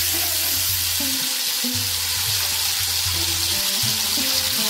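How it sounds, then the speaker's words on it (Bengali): A tamarind rice mixture bubbles and sizzles in a pan while its water cooks off, with a continuous wet frying hiss and soft rhythmic stirring. "এবার একটু নাড়াতে হবে যতক্ষণ জলটা থাকবে।"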